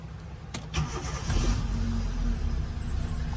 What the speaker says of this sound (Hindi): अभी इंजन ऑन करो।